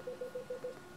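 Five short, evenly spaced DTMF keypad tones dial into a HamVoIP radio repeater node from a FreePBX phone line, each beep crisp and close, followed by quiet line hiss.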